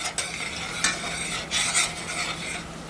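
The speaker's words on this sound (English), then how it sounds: "Now I'm going to give that a nice stir" A spoon stirs oregano and adobo in a pot, giving a few soft scraping swishes over a low sizzle, close up with no speech.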